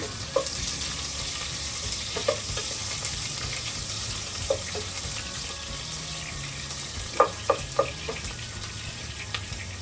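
Garlic and onion sauté in a pan for pork sinigang, making a continuous frying hiss with a few sharp utensil taps against the pan, close and steady, with no voices.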